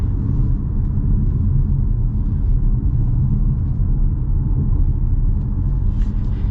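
A 2024 Jeep Compass driving on the road, heard as a steady, loud low rumble of engine and road noise from inside the cabin, constant throughout with no talking.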